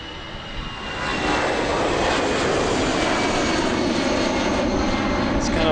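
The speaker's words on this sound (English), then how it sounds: "The A319s with their very peculiar engine sound." An Airbus A319 at Amsterdam Airport roars nearby, its engine noise swelling after a quiet first second into a loud, steady, slightly rattly drone that holds to the end.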